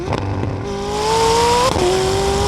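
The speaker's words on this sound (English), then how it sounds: "Downshift, downshift, downshift, send. Okay, lots of turbo lag, just like every other McLaren, and then you're just gone" A McLaren 600LT supercar engine pulls hard after a series of downshifts, its turbocharged note climbing steadily in pitch, briefly dipping at a gear change and then rising again, loud and close.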